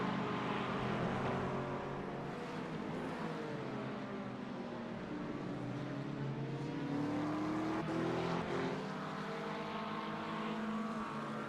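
Race cars, including LMP2 prototypes, at the Nürburgring 8-hour race in a sim racing series, engines whining and shifting pitch as they pass in a continuous stream at moderate distance.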